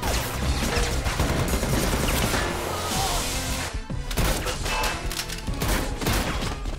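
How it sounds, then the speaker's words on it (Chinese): Dense, continuous gunfire crackles through a loud film battle scene, with rapid overlapping shots and impacts filling the whole stretch. "枪响传来，一名狙击手瞬间倒地。"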